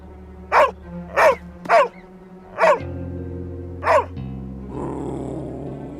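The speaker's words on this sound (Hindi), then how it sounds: "अरे कोई तो इस कुत्ते को चुप कराओ यार।" A dog lets out five sharp, separate barks at uneven intervals, followed by a low, rough rumble as the barking stops.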